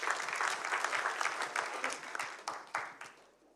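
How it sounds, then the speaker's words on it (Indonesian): A church congregation claps for a group, a moderate patter of many hands at a distance that slowly tapers off and fades toward the end. "boleh tepuk tangan buat mereka"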